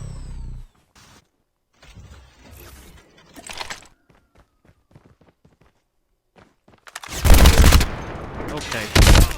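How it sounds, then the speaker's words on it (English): Gunfire in the mobile shooter COD Mobile: scattered distant shots and clicking footsteps give way to two loud, close bursts of rapid automatic fire near the end. "I'm hearing shots over here as well."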